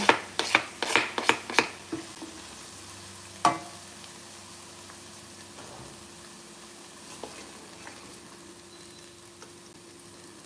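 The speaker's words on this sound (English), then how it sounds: "I just turn up my fire a little bit more so that I can get an even better sizzle" A burst of sharp clatters and scrapes as vegetables for Jamaican-style callaloo drop into a hot pot over a raised flame, then a quieter steady sizzle continues with occasional faint clinks.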